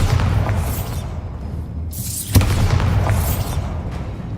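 A Bombarda spell blast in Hogwarts Legacy gives a single sharp boom amid continuous low rumbling game sounds, with whooshing magical swells around it.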